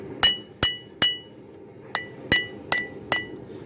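A power hammer forges Damascus steel in sharp, ringing metallic strikes, seven distinct blows in an uneven rhythm with short decays, heard alone.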